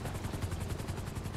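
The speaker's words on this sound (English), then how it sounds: "The chopper's there." Police helicopter in the GTA 5 video game, a steady low rotor thrum that pulses throughout, fairly close and continuous, with no talking over it.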